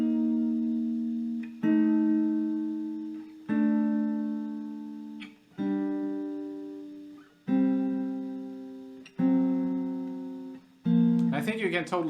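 Jazz guitar plays the guide tones of a jazz standard as clean sustained two-note chords, about six struck every two seconds and ringing out, ending in a brief busier flourish, with no bass underneath.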